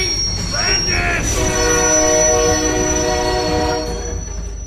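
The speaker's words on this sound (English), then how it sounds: "Eddie Hangman dodges a train and lives again" A train roars past in a radio drama sound effect, loud and continuous, with steady metallic wheel squeal and horn-like tones sustained over the rumble before easing slightly at the end.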